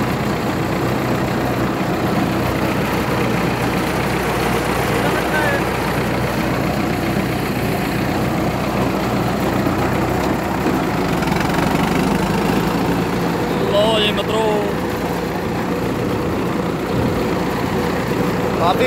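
A tractor at a tavia pulling contest in Kapurthala idles with a steady, loud, low engine drone that runs throughout, with voices heard faintly over it.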